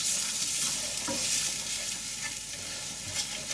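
Fenugreek, garam masala and hot curry paste fry in a pan for pork vindaloo, with a steady close sizzle broken by a few scraping stirs.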